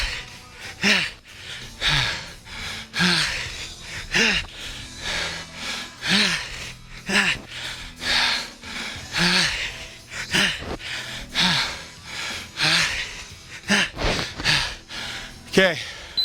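Hard, rapid breathing with gasps and snorts during a high-intensity interval training session between squat thrust rounds, heavy rhythmic breaths repeating close up for the whole stretch.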